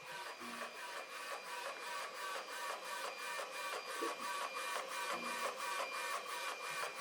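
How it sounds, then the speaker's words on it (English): An Obziy DP1 DTF printer runs a print job. Its print head sweeps back and forth in a steady, even rhythm, with repeated mechanical passes close by and no talking. "we simply press print and go to the machine to start printing."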